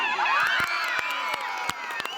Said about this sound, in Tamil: மாணவிகளும் ஆசிரியர்களும் கரகோஷம் எழுப்பினர்